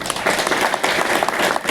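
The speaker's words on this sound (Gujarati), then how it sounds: "અશોકભાઈ તાળીઓથી વધારો" A crowd claps in a steady, dense burst of applause at a farmers' meeting, loud and close, lasting the whole moment with no voices on top.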